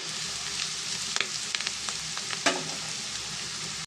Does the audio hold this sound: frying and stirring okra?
yes